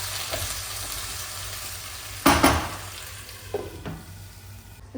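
Cut potato pieces stirred into a frying egg curry base in a pan, with steady sizzling throughout and a few sharp scraping clatters of the spoon against the pan.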